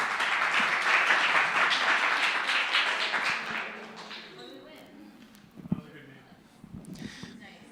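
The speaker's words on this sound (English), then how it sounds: "round of applause" An audience at an Astronomy on Tap night in San Antonio, Texas breaks into a round of applause that tapers off after a few seconds, leaving scattered taps and murmurs.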